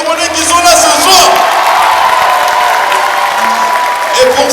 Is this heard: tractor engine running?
no